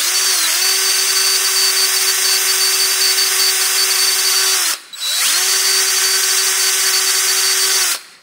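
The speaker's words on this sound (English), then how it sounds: "So I pop this onto my drill." A power drill spins a buffing wheel polishing a small part from an antique Singer 27 sewing machine, a loud steady whine running about four seconds, cutting out briefly, then starting up again for another three seconds.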